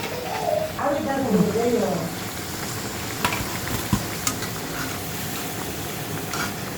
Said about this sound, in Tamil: பொட்டேட்டோ நல்லா ஃப்ரை ஆயிடுச்சு.